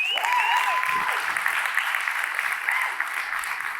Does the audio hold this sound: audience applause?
yes